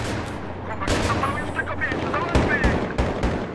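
Rapid bursts of gunfire crack repeatedly in Battlefield 3, sharp shots punctuating a busy background of noise.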